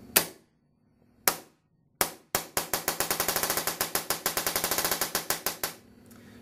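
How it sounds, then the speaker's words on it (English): A RAP4 mil-sim paintball marker fires sharp, close cracks: three spaced single shots first, then a rapid, even burst of dozens of shots at a fast, steady rate before stopping. "The RAP4 can shoot from 1 shot per second up to 15 shots per second simply by turning this Allen wrench counterclockwise"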